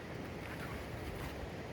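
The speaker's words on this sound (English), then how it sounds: "But it's very windy, so I kind of have to shout." Steady, loud wind roaring across an open outdoor space, a constant gusty rush buffeting the microphone with no voices.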